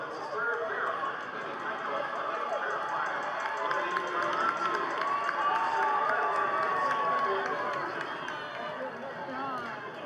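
A large crowd at a horse race cheers and chatters loudly and continuously as horses run past, a dense swelling roar of many voices with a few individual shouts rising out of it.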